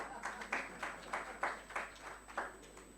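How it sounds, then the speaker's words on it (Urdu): A seminar audience at a human rights day event claps in a sparse, uneven rhythm, roughly eight distinct bursts over three seconds, moderately near and fairly soft, with no talk over it. "بجا دیں تالی"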